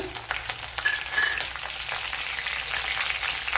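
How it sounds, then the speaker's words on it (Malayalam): Mustard seeds splutter and crackle in hot oil alongside chilli flakes or chopped green chilli for rava upma, giving a steady, close sizzle with scattered pops. "ഇവിടെ ഇപ്പോൾ നമ്മൾ കടുകൊക്കെ പൊട്ടിയിട്ടുണ്ട്"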